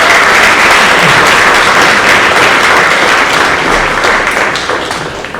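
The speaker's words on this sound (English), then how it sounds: "please give your families a round of applause for helping support you" Audience at a high school National Honor Society induction ceremony applauds the inductees' families, a dense, steady wash of clapping from a large crowd that holds loud throughout and begins to thin slightly at the end.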